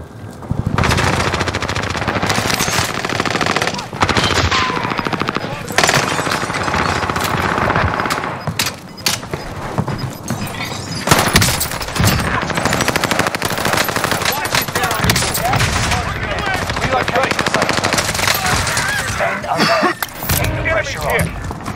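Heavy automatic gunfire rages almost nonstop in a Warzone battle royale match on Rebirth Island, loud and dense with overlapping bursts and blasts, and game voice callouts can be heard under the shooting.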